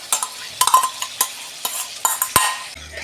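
Masala stirred and sautéed in a pan for a Katla fish curry, oil already separating, giving a string of close, distinct scraping strokes with a light sizzle beneath and a few clinks of the utensil against the pan.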